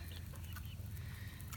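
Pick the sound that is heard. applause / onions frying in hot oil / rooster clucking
rooster clucking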